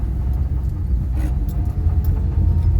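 A vehicle in first gear and two-wheel drive rolls slowly downhill, giving a steady low engine and road rumble throughout, close and continuous with no voices.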